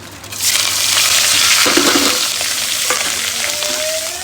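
Mustard seeds, asafoetida, bay leaf, curry leaves and chillies hit hot oil with a sudden loud sizzle and crackle that holds strong and then slowly eases, with a few spits and pops, close up and with no talk.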